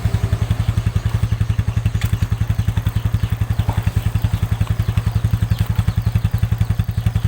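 A Yamaha Force FI motorcycle runs steadily close by with a rapid even engine thump, and a faint scraping rattle comes from the chain cover rubbing against the chain.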